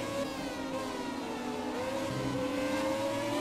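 A Williams FW18 Formula One car from 1996, driven in the F1 2017 video game, holds a continuous high-pitched engine roar, rising and falling slightly in pitch as it drives, steady and prominent with no talk.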